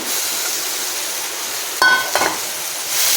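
Pointed gourd pieces are tipped into a pan with ginger, green chilli, sesame and tomato, giving a steady sizzle with a clattering, stirring burst near the middle and no talk.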